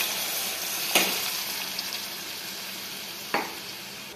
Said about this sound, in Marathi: आता याच्यामध्ये वरण टाकून घ्यायचं